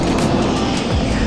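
A large military helicopter spools up on a nearby base, a continuous heavy turbine-and-rotor roar filling the brief moment at steady, loud level with no voices.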